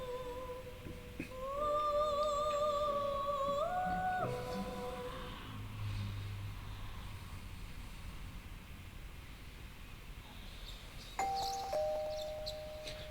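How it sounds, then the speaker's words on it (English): Doorbell in the video game Persona 4 Golden: two clear chime sequences, a rising ding-dong around the start and another near the end, over quiet ambient game background with no speech. "You hear doorbell ringing."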